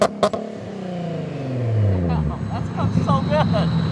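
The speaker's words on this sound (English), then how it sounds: "We'll see how it does in terms of a couple donuts, and I'll probably do a couple launches here and see how it goes." Engine of a car fitted with a Z1 bolt-on supercharger kit rising in a revving surge after a couple of sharp knocks at the start, with a voice talking over it.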